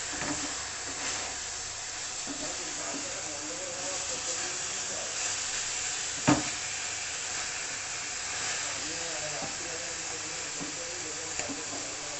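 Spice paste is stir-fried, bhuna style, in a pan, giving a steady sizzling hiss for the whole stretch with one sharp clink partway through and faint soft stirring noises.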